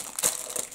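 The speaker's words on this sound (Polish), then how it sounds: "I już na dzień dobry widzę obrusik, więc sobie rozpakowujemy." A tablecloth being unwrapped from a mystery box, one brief close crinkle of packaging with a sharper rustle in the middle.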